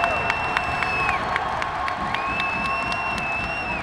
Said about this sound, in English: And the crowd goes up.